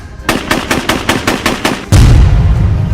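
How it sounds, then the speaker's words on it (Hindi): Automatic AK-47 rifle fire reported as an attack on Donald Trump: a rapid burst of about ten evenly spaced loud shots, followed by a sudden dense roar of sustained noise. "डोनाल्ड ट्रंप पर AK-47 से फायरिंग।"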